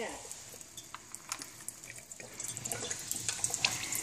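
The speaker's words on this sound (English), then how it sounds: "Water fills our glass." Alkaline ionized water pours from an ionizer spout into a glass, a soft steady trickle with light splashing that grows busier toward the end, faint and close.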